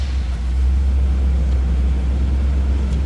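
A 1975 Oldsmobile Delta 88 Royale convertible's engine runs at a steady idle, a loud, even low rumble close to the microphone with no pauses.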